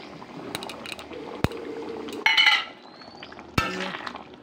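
A pot of chicken curry with ground garam masala being stirred, giving scattered metallic clinks and scrapes of a spoon against the pot, with two sharper knocks over a faint steady cooking hiss.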